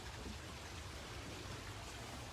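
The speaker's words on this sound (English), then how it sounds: "This is the bridge over the stream and the waterfall" A stream runs over a small waterfall by a garden pond under a footbridge, giving a steady, even rush of water that is faint and far off, with no voices.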